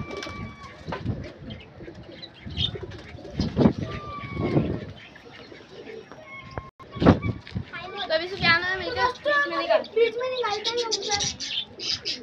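Soft pigeon coos and chirps close by, mixed with other bird calls and a person talking in the background.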